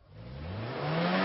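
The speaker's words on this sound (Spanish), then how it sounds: "¿Qué pasa con su cuerpo al escuchar un frenazo y usted está en una moto?" A vehicle engine rises in pitch and grows louder over a brief moment, with no clear tyre screech.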